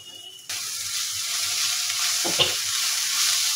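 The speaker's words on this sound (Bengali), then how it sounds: "তো আমার কিন্তু পুরটা ভাজা ভাজা হয়ে গেছে" Minced meat filling for mini wontons, with coriander leaves, fries in a pan with a steady close sizzle and occasional stirring scrapes.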